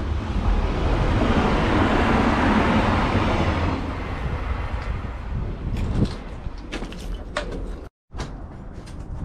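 Train rumbling past near an abandoned factory, a broad roaring wash that holds strongly for several seconds, then fades with wind and creaking clatter before a brief dropout.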